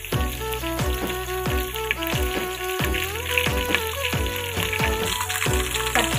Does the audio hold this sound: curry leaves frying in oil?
yes